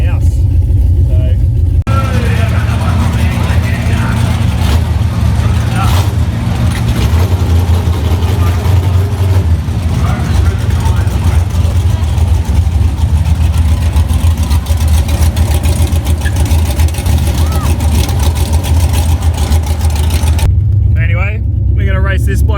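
Drag racing car engine idling and revving at a CBD drag strip during a Rockynats street-machine event, a loud, steady low rumble running throughout with people talking over it.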